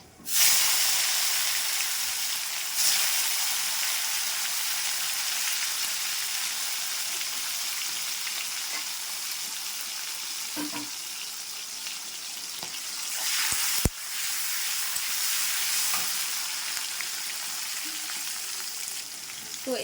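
Tomato dropped into hot oil already tempered with dried red chili, cumin, bay leaf, garam masala and panch phoron for a vegetable khichuri, giving a loud, steady sizzle and hiss throughout with a few faint clinks of a spoon.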